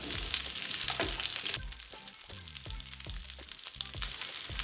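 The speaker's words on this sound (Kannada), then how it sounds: "ಈಗ ಈ ಪ್ಯಾನಿಗೆ ಈರುಳ್ಳಿ ಹಾಕೊಳ್ಳೋಣ ಈರುಳ್ಳಿನ ಚೆನ್ನಾಗಿ ಬಾಡಿಸ್ಕೊಳ್ಳೋಣ" Onions sautéing in a pan for onion sambar, a steady close sizzle that softens partway through, with light scraping taps and no talk.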